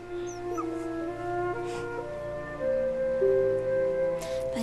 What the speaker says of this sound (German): Ab heute nenne ich dich Herr. Herr Hund